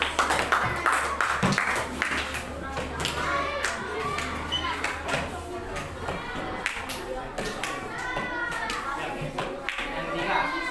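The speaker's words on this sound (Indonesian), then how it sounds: "Beri tepuk tangan untuk Zahira." A classroom of children claps for a pupil, a lively burst of scattered hand claps mixed with kids' chatter and voices, continuing throughout at close range.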